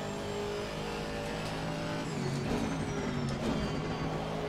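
GT3 race car engine in the Assetto Corsa Competizione racing game, a steady loud drone held throughout, with a slight swell in revs near the middle and faint tire noise underneath.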